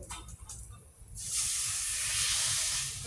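Water is poured into a hot pan outdoors in front of a house, used instead of oil for frying; after a quiet second, a loud, steady steam hiss bursts up and keeps going.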